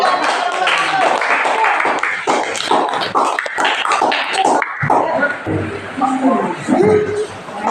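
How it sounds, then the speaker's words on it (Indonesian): Children in a classroom clap their hands in a burst of quick, uneven applause over several seconds, and voices chatter and murmur through and after the clapping. "Tepuk tangan nak."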